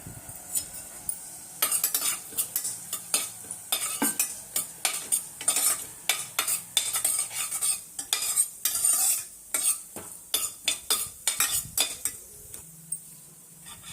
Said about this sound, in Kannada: ತುಪ್ಪ ಚೆನ್ನಾಗಿ ಕಾದಿದೆ ಇಲ್ಲಿ ನಾನು ಒಂದು ಸ್ಪೂನಷ್ಟು ಜೀರಿಗೆ ಒಂದು ಮೂರು ಲವಂಗ ಜಾವಿತ್ರಿ ಒಂದು ಸ್ವಲ್ಪ ಚಕ್ಕೆ ಎರಡು ಏಲಕ್ಕಿ ಇಷ್ಟು ಹಾಕ್ತಾಯಿದ್ದೀನಿ